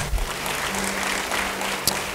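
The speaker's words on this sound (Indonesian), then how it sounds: "Beri tepuk tangan yang bisa." Steady audience applause in a church service, a dense wash of many hands clapping together, loud and sustained throughout.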